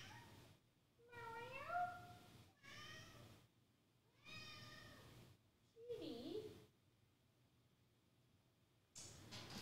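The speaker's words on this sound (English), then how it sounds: "In the meantime, you can listen to my cat." A house cat meows several times, close and clear, with each drawn-out call separated by short quiet gaps.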